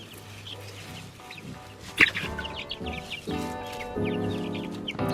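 Several chickens cluck and chatter in bursts close by, with a sharper squawk partway through, over a steady background hum.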